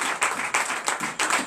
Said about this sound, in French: Oh, donnez l'acclamation.